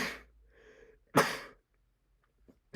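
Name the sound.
sneeze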